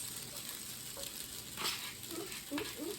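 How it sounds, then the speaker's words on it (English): Steady sizzling of spaetzle frying in butter in a pan, soft and continuous with faint crackles, close by and quiet, no talking. "Listen to that sizzle."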